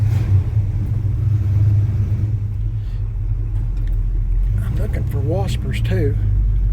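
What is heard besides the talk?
1984 Chevy C10 350 engine running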